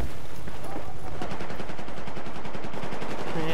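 Rapid automatic gunfire in Battlefield 4, a dense run of sharp shots rattling steadily through the whole stretch, with players talking over the shooting.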